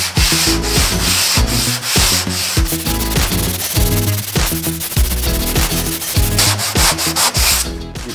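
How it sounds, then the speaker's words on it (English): A sanding block rubs back and forth across a primered car panel on a Volvo 240 under restoration, giving steady, loud rhythmic scraping strokes close up with no voices. "we've got to keep blocking until those scratches go away"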